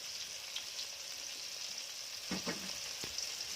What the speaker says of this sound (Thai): หรือเราจะทอดทีละด้านนะครับทีละด้านแล้วก็ ถ้ามันเริ่มกรอบเราก็จะกลับนะครับ